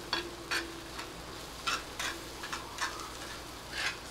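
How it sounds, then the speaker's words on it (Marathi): Masala bhaji vegetables cook on a tawa griddle with a soft, steady sizzle, broken by quiet scraping and tapping strokes at an uneven pace; faint and close, with no talking. "तिथे आपली भाजी तव्यावर होतीये"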